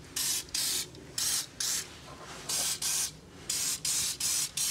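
Short hissing bursts of aerosol spray, about ten in quick irregular succession, as lubricant is sprayed onto a Troy-Bilt Vortex Tracker 2890 snowblower's gearbox and shear pins, close and loud.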